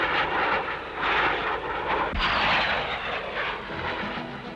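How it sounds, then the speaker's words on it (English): A four-engine de Havilland Comet jetliner roars past at the Farnborough air show, a broad steady engine rush that swells and holds without letup, with no voices over it. "including the de Havilland Comet 36-seater 4-engine jetliner"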